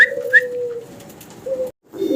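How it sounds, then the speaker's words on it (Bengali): Owl pigeons, a Chinese owl breed kept by a fancy pigeon seller, give soft repeated coos and low calls nearby, with a brief pause before a final coo. "2 পিস আউল কবুতর দেখাচ্ছি"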